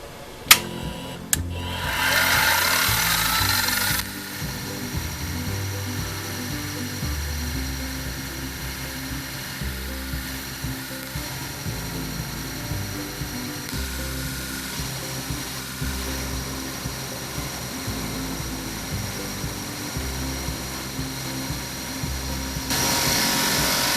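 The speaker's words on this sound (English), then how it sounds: "Now we'll mill the sides down, get it a little thinner." Milling machine taking about 1/8 inch off each side of new vise jaws, a steady high whine of cutting running unbroken throughout after a brief louder start, with no talk.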